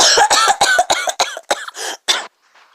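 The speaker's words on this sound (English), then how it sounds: "How long have you had that cough?" A reader performs a long fit of coughing during a dramatic reading of a story: about a dozen harsh, close, loud coughs in a ragged rhythm, tapering off into a faint breath at the end.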